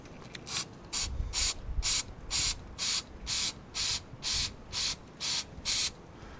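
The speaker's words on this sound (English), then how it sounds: "it's a good time to clean it down with a mass airflow sensor cleaner" Mass airflow sensor cleaner sprays onto the sensor from a BMW's intake, about a dozen short, sharp hissing bursts fired in a quick, even rhythm close to the microphone.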